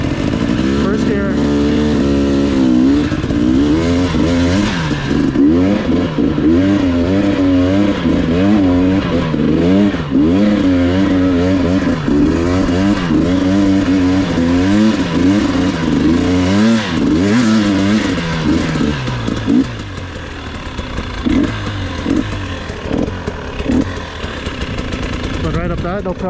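A 2022 GasGas EC300 two-stroke dirt bike accelerating in first gear on a trail, its loud, close engine rising and warbling in pitch before dropping off, with a rider talking briefly.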